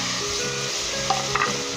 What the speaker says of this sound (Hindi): और अच्छे तरीके से इसे भुनेंगे 5 मिनट के लिए